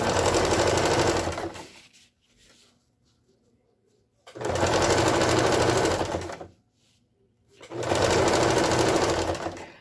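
A sewing machine stitches a cover for a water jug in three loud, steady runs of rapid mechanical whirring, each lasting a couple of seconds and separated by near-silent pauses.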